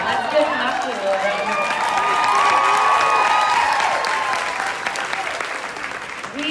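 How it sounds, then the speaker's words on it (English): Audience at a Wine, Women & Shoes charity event breaking into loud sustained applause and some cheering, swelling for several seconds then gradually tapering off. "a round of applause"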